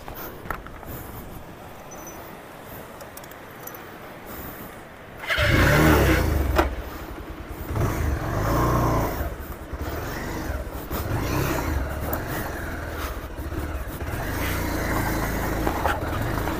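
A motorbike crossing a broken bridge on a dangerous mountain road near Prashar Lake, with engine noise surging loudly after a quieter windy stretch, then revving steadily under wind buffeting close to the microphone.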